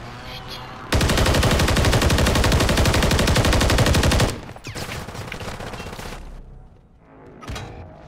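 Rapid, loud automatic gunfire from a Call of Duty match bursts in for several seconds, followed by scattered lighter shots and clatter, with brief quiet between.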